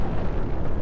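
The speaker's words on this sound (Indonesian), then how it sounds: "Dahsyat banget ya nuklir." A nuclear bomb explosion in the city-destruction game City Smash: a deep, roaring blast rumbles continuously, dense and loud, like a massive explosion still tearing through.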